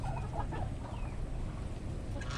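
Rhode Island Red chickens cluck softly while pecking at chopped kangkong, with scattered clucks over a busy, noisy farmyard background.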